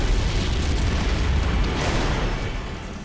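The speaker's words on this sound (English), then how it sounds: "we're going to be showing an explosion which uses some of the same techniques that we use in film visual effects" A demo explosion effect in Unreal Engine 4 roars as a loud, dense, sustained rumbling blast filling the whole clip, slowly fading toward the end.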